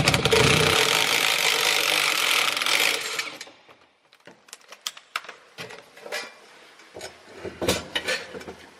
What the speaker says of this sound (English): I'm on the last bolt up here in the front. Once I undo this, it's going to drop.